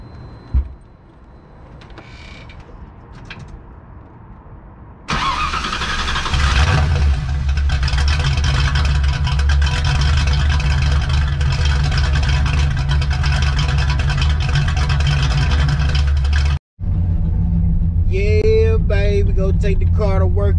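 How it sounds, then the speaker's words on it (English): A Ford Mustang cold start: quiet rustling, then the starter catches and the engine settles into a loud steady idle close by. A brief cut follows, then the idle continues under someone speaking. "Cold start."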